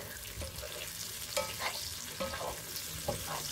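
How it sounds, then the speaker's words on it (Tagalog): Eggplant and chicken being stirred in a pan, scraping spatula strokes over a steady sizzle of frying, close and moderately quiet with no talking. "Haluin mo lang siya."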